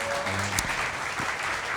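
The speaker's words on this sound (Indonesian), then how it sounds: "Tepuk tangan dong teman-teman." Applause from a large audience at a public gathering, a steady wash of clapping with a voice briefly audible underneath.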